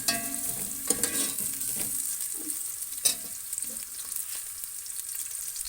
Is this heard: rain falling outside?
no